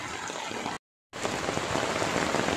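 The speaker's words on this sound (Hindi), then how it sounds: "और बहुत जोरों से बारिश है." Heavy rain pours down steadily outside a Shiva temple in Mumbai, a dense, loud hiss of drops broken by a brief gap of silence before the downpour resumes just as strongly.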